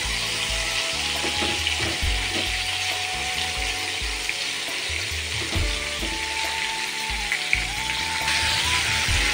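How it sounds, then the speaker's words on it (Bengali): Ridge gourd fries in a pan with salt and turmeric, a continuous close sizzle broken by scraping and clattering stirring strokes, with no talking. "ঝিঙ্গাটা কিন্তু আমার ভাজা হয়ে এসেছে"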